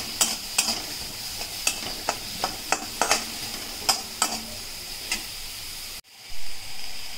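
Capsicum for pav bhaji cooking over medium heat in a pan, a steady soft sizzle broken by sharp, repeated scraping clicks of a spatula, then a sudden cut and a muffled thump.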